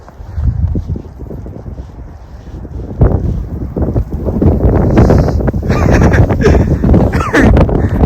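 Strong wind during a US winter snowstorm at minus fifteen degrees, a loud, continuous roar buffeting the microphone that builds in force over several seconds.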